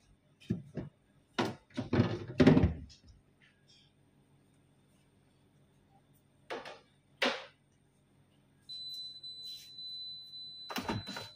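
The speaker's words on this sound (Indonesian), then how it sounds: "Jadi kulkasnya itu kayak ada alarm ya, kalau kita tidak menutup dengan benar itu nanti dikasih tahu dengan berupa alarm titit kayak gitu" A Sharp refrigerator's door-open alarm sounds near the end as a thin, steady electronic beep tone, following earlier thumps and rustling from handling the fridge and a few brief bursts of speech.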